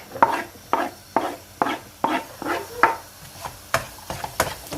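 Store-bought beans are sautéed in a pan for cauliflower fried rice, with about a dozen evenly spaced, crisp knocks of a utensil against the pan over a faint background sizzle.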